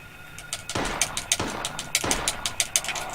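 Bursts of gunfire in the survival horror video game Silent Hill, loud sharp shots fired in uneven groups and singles over a low ambient drone, with no talking.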